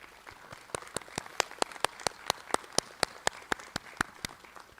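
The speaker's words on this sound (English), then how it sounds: "Let's give them a round of applause" Scattered hand claps at a summer school graduation ceremony, sounding as a steady, evenly spaced series of sharp single claps, fairly quiet, with no voices over them.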